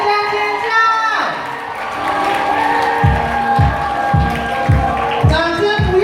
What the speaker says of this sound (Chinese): 掌声不要停，掌声不准停